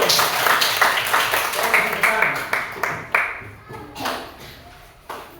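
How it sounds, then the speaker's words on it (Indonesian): Schoolchildren in a classroom clap for a group, a burst of brisk hand claps that thins into scattered, irregular slaps and fades toward the end, with a little faint chatter among the class. "Tepuk tangan untuk kelompok Mbak Naura, ayo."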